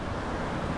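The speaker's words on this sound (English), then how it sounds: "It's again really windy" Strong wind buffets the microphone at a beach resort in Lombok, making a brief, dense, steady roar that may be mixed with surf.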